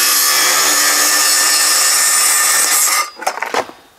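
A power saw with a sharp Nesdale blade cuts interlocking garage floor tile in a steady, loud rasping run for about three seconds, then stops, leaving a few brief scraping knocks as the pieces are handled.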